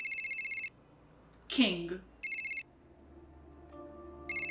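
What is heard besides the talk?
telephone ringing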